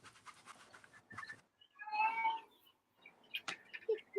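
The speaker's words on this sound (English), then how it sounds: "I can hear Kitty. Yeah, he's demanding to come outside" A house cat meows insistently, demanding to be let outside; a few faint, strained cries come from a short distance, with quiet scratching and noise between them.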